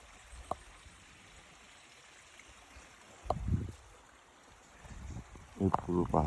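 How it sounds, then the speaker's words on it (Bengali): Madhabkunda waterfall flowing, a faint, steady wash of rushing water heard from a distance, with brief bursts of voices over it. "কি সুন্দর আওয়াজ ঝর্ণাটা, মাধবকুণ্ড"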